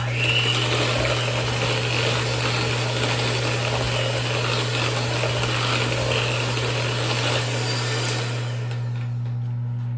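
A hand or stand mixer whirs steadily through cream cheese frosting for carrot cake, a continuous close motor drone with a strong low hum that runs unbroken before trailing off near the end.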